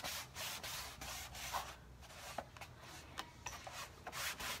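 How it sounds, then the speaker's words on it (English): Excess material is wiped off a pumpkin truck craft with repeated soft rubbing and scraping strokes, quiet and close, with no speech. "wiping off the excess"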